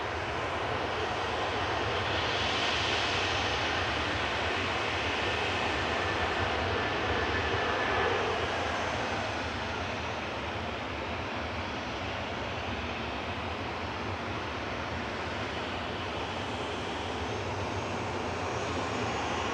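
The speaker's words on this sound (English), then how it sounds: "This is Air Lingus's GEIDY coming in from New York here, just touching down, A330-300" An Aer Lingus Airbus A330-300 arriving from New York touches down at Manchester Airport, a continuous, dense jet rumble and rush that stays fairly steady throughout, with a slight swell early on.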